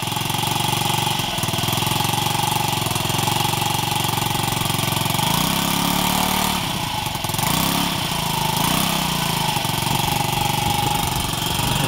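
A Honda Ruckus scooter fitted with an NR Magic exhaust idles up close with a continuous, rough, buzzing engine note. Its pitch wavers and rises slightly about halfway through.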